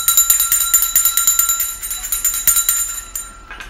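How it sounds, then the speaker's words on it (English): A hand bell rung rapidly and continuously, loud and near, with steady metallic ringing strokes that slow slightly toward the end. "I pop out of the bed and I ring the bell."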